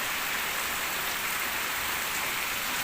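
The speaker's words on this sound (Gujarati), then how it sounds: "વાહ આ રીતનો જોરદાર વરસાદ ચાલુ છે" Heavy wind-driven rain pours in a dense, steady hiss with no letup, loud and close, with no voices.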